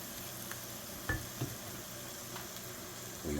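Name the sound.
jalapeno pepper and vegetables sizzling in a pan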